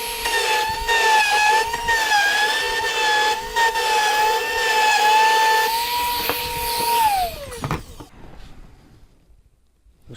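A woodworking power tool runs a bead pass along a wooden board for a Murphy bed, giving a loud, steady, high whine with a rough cutting texture before it spins down and falls silent near the end.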